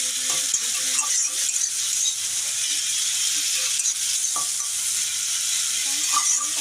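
Onion, tomato, ginger, garlic and chili sauté in hot oil for a fish curry, giving a loud, continuous close sizzle with intermittent clinks and scrapes of a stirring spoon against the pan.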